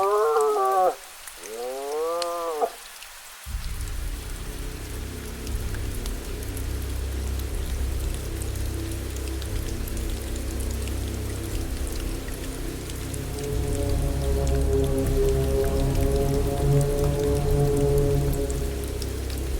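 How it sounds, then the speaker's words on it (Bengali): Light rain falls as a horror-story sound effect on a forest path. A few brief wailing, howl-like calls come first, then a steady, close hiss of rain takes over, and a low droning tone swells beneath it toward the end. "হালকা বৃষ্টির ফোঁটা পড়তে শুরু করল।"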